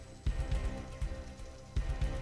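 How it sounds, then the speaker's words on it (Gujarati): Heavy downpour in Porbandar, a steady dense hiss of rain beating on surfaces with repeated heavier low-end splashes, loud and close, with no voices. "પોરબંદરમાં ધોધમાર વરસાદ"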